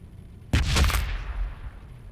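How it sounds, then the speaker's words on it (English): A grenade blast in the Warhammer 40,000: Battlesector strategy game, Blood Angels against Tyranids: one sudden loud explosion with a sharp attack and a short rumbling tail, with no talk. "Yeah, have a crack grenade. Throwing grenade!"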